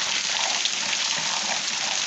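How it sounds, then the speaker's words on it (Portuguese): A rain shower falls on the Pernambuco coast in October as a steady, close, even hiss of water. It keeps a constant level for about two seconds, with no voices. "Uma chuva agora que fechou."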